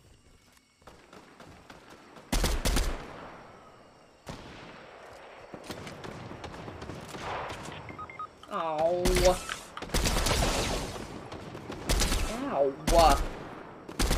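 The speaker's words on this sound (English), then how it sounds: "Is someone shooting at you?" Bursts of video game gunfire crack loudly in rapid volleys, several clustered shots and automatic fire repeating over about fourteen seconds, with people talking and exclaiming over the action.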